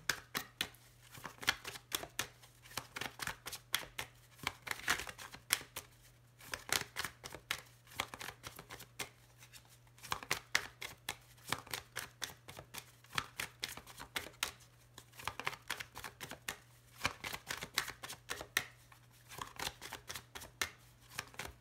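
Tarot cards shuffled by hand in repeated bursts of quick riffling and soft slapping, close and quiet, with a low steady hum beneath and brief pauses between rounds.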